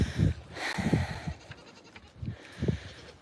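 Goat bleats ring out on a goat farm, several separate calls spaced across a few seconds, close and fairly loud with quieter farmyard background between them.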